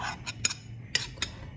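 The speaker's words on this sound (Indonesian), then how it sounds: "Sambil diaduk-aduk seperti ini." Cake batter with flour being stirred, spoon or whisk scraping and clinking against the bowl in a few short bursts, close and fairly quiet, with no talk.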